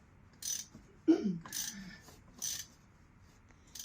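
A ratchet tightens a bolt on a Subaru Impreza engine during re-assembly, giving several short bursts of quick clicking spaced about a second apart, close and fairly quiet, with brief murmuring between strokes.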